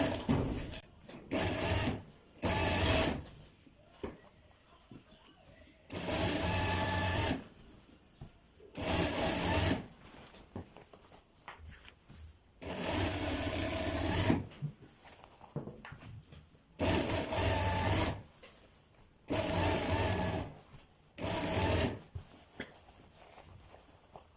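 A sewing machine stitches a kurta sleeve in repeated bursts of rapid, loud whirring, each run lasting a second or two, separated by quiet pauses and small handling noises.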